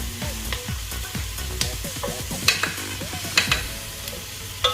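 Curry powder is sautéed in a pan, with a continuous sizzle and repeated scraping stirs of a utensil at an irregular rhythm, close by and with no voices.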